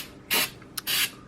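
Black undercoat is sprayed onto a car subframe in two short aerosol bursts, the second longer, hissing up close with a brief click between them.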